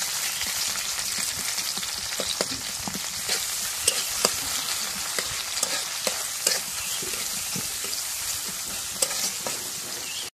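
Onion and green chili paste frying in a pan while being stirred, a steady loud sizzle with scattered scraping clicks from the spoon throughout, no voices.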